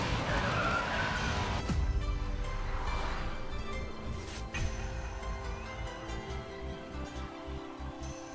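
A Zenvo car drifting in the Racing Master game, its tires skidding and squealing over a steady engine drone, close and continuous with no talk.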